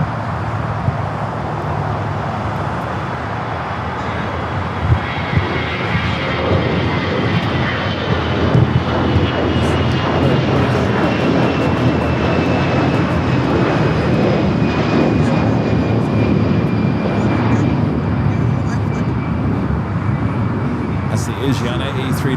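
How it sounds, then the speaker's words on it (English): An American Airlines Airbus A321 jet takes off from LAX bound for Phoenix, its engines roaring loudly and steadily as the broadband rumble swells and holds, with some traffic noise underneath. "An American flight taken off heading to Phoenix, flight 2032 at A321."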